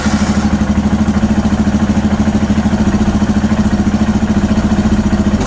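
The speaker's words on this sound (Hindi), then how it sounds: "अब मैं इसको खोलना शुरू करूँगा, क्वार्टर राउंड एवरी टाइम।" A Royal Enfield Himalayan single-cylinder engine thumps steadily at about 1500 rpm idle during carburettor tuning, a loud close pulsing beat that stays fairly even with slight rises as the throttle opens.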